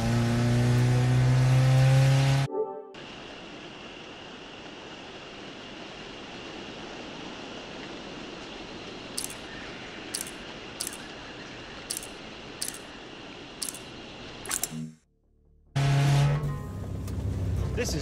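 A Fiat car that has lost its exhaust pipe, in The Grand Tour game, roars loudly as it revs, then drops to a rough, steady drone with sharp clicks before revving hard again; no one talks.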